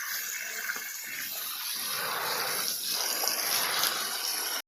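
Freshly gathered clams are rinsed of sand under running water, a steady gushing splash close by that holds on without pause, ending abruptly with no voices.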